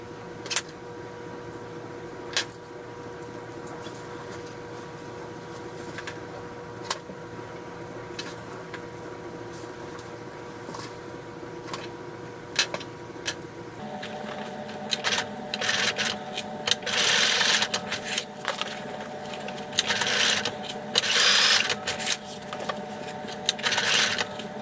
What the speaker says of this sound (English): So when I sew it, I'm going to actually sew right across this edge, top stitch at the top and at the bottom.